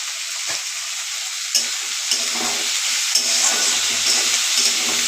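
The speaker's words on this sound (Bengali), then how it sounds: "এবার আলুটা মটরশুঁটিটা ভালোভাবে ভাজা হবে" Potatoes and peas fry in a pan with salt and turmeric, giving a loud, continuous sizzle broken by a few sharp stirring scrapes and no talking.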